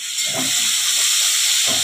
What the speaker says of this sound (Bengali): আজকে আলু ভাজা করছি, আলু ভাজাটা করে দিচ্ছি।